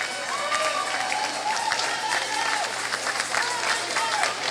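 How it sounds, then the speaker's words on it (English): Crowd at a swimming meet clapping and cheering in a large echoing pool hall, steady and fairly faint, with some voices mixed in. "the crowd picks it up and cheering on Andrew Burnstorm in lane 3"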